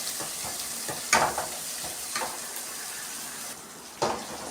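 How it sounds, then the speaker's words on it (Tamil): Onions with salt frying in a pan, deep-fried toward golden, give a steady close sizzle with a few scraping stirs and clinks of a utensil against the pan. "எப்பவுமே அந்த வெங்காயம் வந்து கோல்டன் கலருக்கு வர அளவுக்கு டீப் ஃப்ரை வந்து பண்ணணும்"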